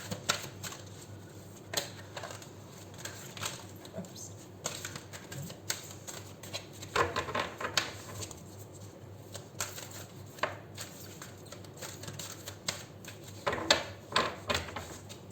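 Crisp, papery riffles and soft slaps of tarot cards being shuffled, coming in short bursts with brief pauses, close up and fairly quiet.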